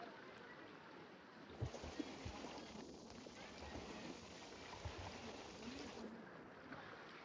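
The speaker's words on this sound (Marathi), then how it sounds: "हा इकडे वॉटरफॉल चाललाय" Water rushes and flows along a monsoon stream below a waterfall in the Yeoor Hills, a steady close wash with a few splashing footsteps through the water and no speech.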